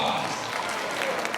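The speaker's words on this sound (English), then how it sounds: "Let's give him a big round of applause." A crowd at a bingo game applauds the winner in a brief patter of clapping mixed with indistinct voices.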